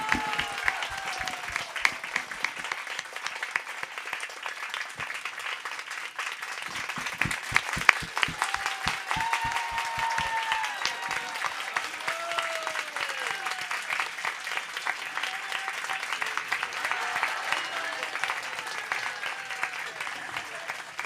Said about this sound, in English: поаплодируем ему за это